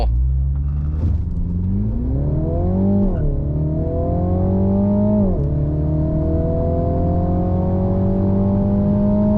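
A Mini John Cooper Works Countryman held on the brake in launch control, its engine revving up and holding at a loud, steady drone inside the cabin, dipping and rising again before settling at high revs.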